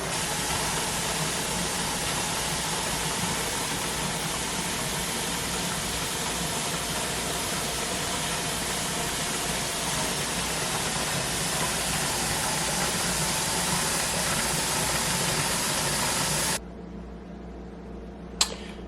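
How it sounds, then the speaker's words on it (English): A pressure canner venting steam while canning sweet potatoes: loud, continuous hiss roars evenly for a long stretch, then cuts off abruptly to a quieter background with a single click. "that's the steam that I want"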